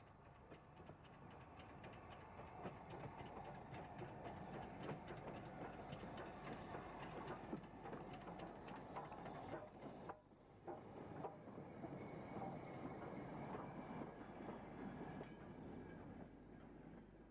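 A Black 5 steam locomotive hauls a freight train of mineral wagons past with a steady rumble and clatter of rolling stock, a continuous fairly distant roar with a brief dip midway.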